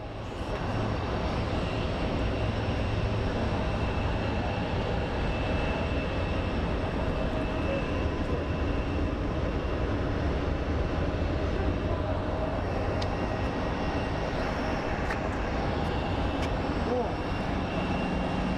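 A CRJ jet airliner roars steadily at Phoenix Sky Harbor airport, a broad, constant engine rumble that holds throughout at a moderate distance.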